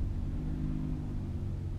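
Car engine with a damaged, loud exhaust, rumbling heavily and steadily at close range, a dense low drone that carries on without a break for under two seconds.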